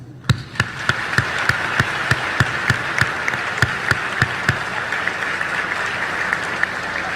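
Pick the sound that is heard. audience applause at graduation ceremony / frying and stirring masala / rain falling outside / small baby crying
audience applause at graduation ceremony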